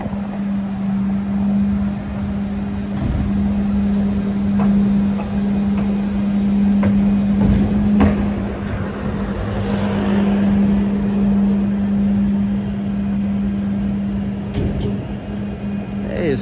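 Street traffic in Midtown Manhattan at New Year 2024, with cars passing illegally in the bus lane: a constant engine rumble and low hum, with occasional louder vehicle passes along the street.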